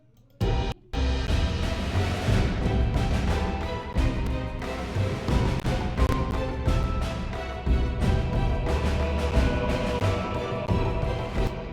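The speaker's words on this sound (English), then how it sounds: "And you can hear the strings here. They're building up tension here." Sustained orchestral strings swell within a dense, full arrangement, building steadily with rhythmic accents throughout.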